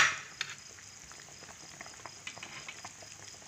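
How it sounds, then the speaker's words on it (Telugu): Fish curry broth (a pulusu made with pala bontha fish) simmering in a pot as fish pieces go in, giving a faint, steady bubbling and light patter with occasional soft plops and no voices. "చక్కగా మరిగిపోయింది, ఇలాగా చేప ముక్కలు అన్నీ వేసేసుకోవాలండి."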